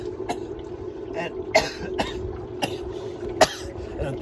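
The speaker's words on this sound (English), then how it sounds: "I'm coughing again" A few sharp coughs break out at irregular intervals over a steady low hum, fairly close by.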